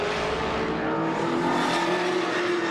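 V8 touring race cars including a Ford Falcon racing at Taupo, New Zealand, a loud continuous engine roar at high revs with a sustained droning note, close and steady throughout.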